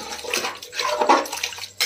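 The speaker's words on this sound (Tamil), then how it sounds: "மட்டன் குழம்பு இருக்கிறதால 1 சொம்பு தண்ணி வைக்கிறேன்." A vessel of water pours into a cooking pot for mutton kulambu, a close, splashing gush in a couple of uneven surges lasting under two seconds.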